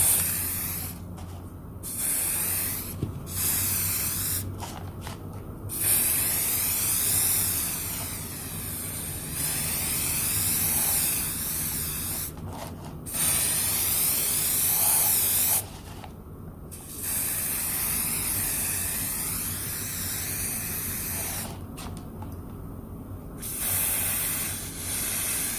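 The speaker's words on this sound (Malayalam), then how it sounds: "ഇത് സിൽവറിന്റെ സ്പ്രേ പെയിന്റ് ആണ്." Silver spray paint hisses from an aerosol can onto a plastic bottle vase in a series of long, loud bursts, each separated by a short silent pause.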